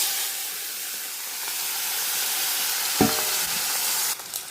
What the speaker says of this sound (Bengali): তেল গরম হয়ে গেছে, এখন চিংড়ি মাছগুলো ভেজে নেব।